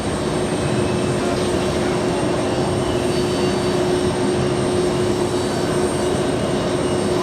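A Russian VIP jet at JFK airport produces a loud, steady engine roar with a constant high whine running unchanged throughout.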